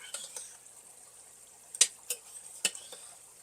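Metal utensil stirring homemade hamburger soup with caramelized onion butter in a pot, a few sharp clinks and scrapes against the pot over faint kitchen background.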